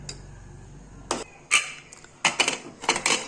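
A pressure cooker lid is fitted onto a pot of chicken pulao, giving a handful of sharp metallic clanks and clicks spaced irregularly, close and fairly loud after a quiet start.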